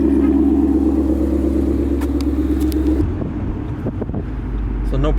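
A supercharged 5.0 V8 in a 2015 Ford Mustang GT with loud exhaust idles with a loud, deep, throbbing rumble that drops off partway through, leaving a lower rumble and some faint background noise.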